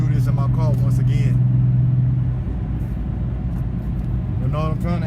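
A car's engine drones at a steady low rumble with road noise from inside the cabin, and someone talks over it nearly the whole time.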